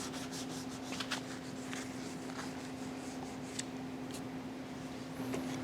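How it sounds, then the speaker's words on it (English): A sanding block and sandpaper rub along the edges of a wooden bookshelf in close, repeated strokes, giving a steady, raspy abrasive scratching over a constant faint background hum. "We want to break the edge with a sanding block and then come back with some sandpaper"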